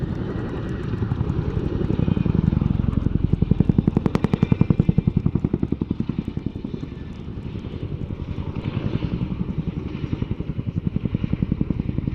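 A Chinook helicopter flying a display at the RAF Cosford Air Show 2025 throbs with a loud, steady rotor chop that swells and fades slightly as it passes overhead, continuous throughout with no talk.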